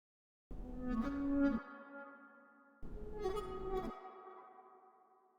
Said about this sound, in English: That's how you get the guitar sounding like it's floating into the air.